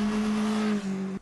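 A motorcycle engine, an MV Agusta Brutale 910R, holds a steady high-pitched rev close by, the tone dipping slightly before cutting off abruptly just before the end.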